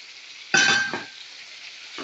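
Previously fried potatoes and fried eggs dropped into cooked masala in a pan, a sudden loud sizzling burst that quickly dies down, then another sizzle starting at the end.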